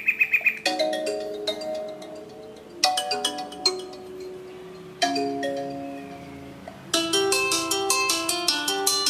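A Xiaomi Redmi 2 phone speaker plays a bright, melodic ringtone: repeated chiming phrases of bell-like notes, fairly loud and close, with no talking.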